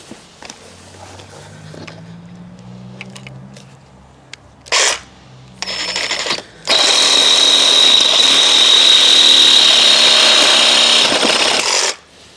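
A Ryobi 18V brushless cordless reciprocating saw starts in short bursts, then runs at full speed for several seconds cutting the head off a screw in timber, a loud, harsh buzzing close by that stops abruptly.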